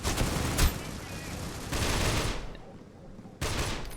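Rapid gunfire from the mobile shooter Critical Ops during a tournament match, with dense bursts of shots that drop away briefly and then resume, loud and continuous under a commentator's voice.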